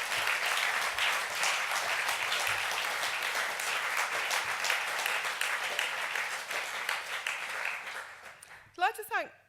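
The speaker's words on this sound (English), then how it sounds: "Round of applause for my team." Sustained audience applause at an awards ceremony closing speech, loud and dense for most of the stretch, thinning out toward the end as a few voices come in.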